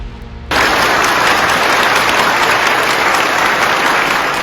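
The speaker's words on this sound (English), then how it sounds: "A round of applause from a grateful community" A grateful community and hospital staff break into loud, sustained applause for a police officer injured in a shooting as he leaves the hospital, the clapping starting abruptly after a brief quiet moment.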